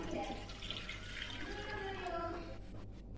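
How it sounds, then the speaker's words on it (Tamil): Milk, about a quarter litre, is poured into a pan on a stove, a soft continuous liquid stream and splash that tapers off at the end, faint against quiet room noise. "அதில் வந்து ஒரு 1/4 லிட்டரு பால் ஊற்றி சூடு பண்ண போகிறோம்மா."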